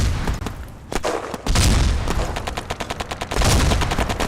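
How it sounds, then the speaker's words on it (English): A hand grenade is thrown and bursts with heavy blasts in the combined-arms shooter Battlerush 2. The loud booms sit among dense, rapid bursts of automatic gunfire that continue throughout, up close and with no talking. "Let's throw a grenade, just for fun."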